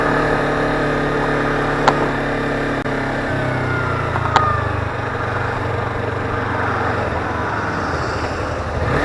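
A motorcycle engine drones loud and close while riding, its pitch holding steady then dropping as it shifts, with wind rushing and a couple of brief clicks.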